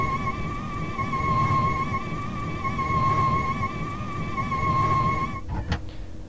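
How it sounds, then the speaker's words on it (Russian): A steady electronic tone with a low rumbling hum runs for several seconds, then cuts off with a couple of short clicks and thumps as a Mercedes Sprinter bus sliding door closes in the game OMSI 2. "Это звук сдвижной двери."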